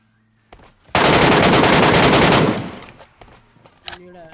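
An MK rifle fires in the PUBG Mobile video game: one loud, sustained burst of rapid automatic gunfire lasting about a second and a half, preceded by a soft click and followed by fading echo and faint game sounds.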